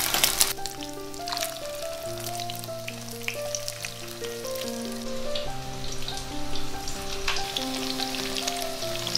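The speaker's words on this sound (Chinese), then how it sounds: "放到锅里面来煎。" Tofu dusted in starch, dipped in egg and topped with chives sizzles steadily in plenty of oil in a flat pan, a soft crackling hiss running under louder background music.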